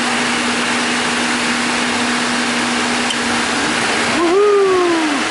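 Cooling fans on a 2016 Nissan Rogue running in high mode under the hood, a steady loud whooshing roar with a constant hum, then a rising whine as something spins up near the end.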